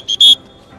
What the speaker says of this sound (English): He blows his whistle when he's riding the bike.